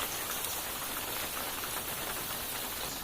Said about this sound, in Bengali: আজকে কয়েকদিন ধরে দেখেন কত বৃষ্টি হচ্ছে, ধীরে ধীরে বৃষ্টি পড়তেছে।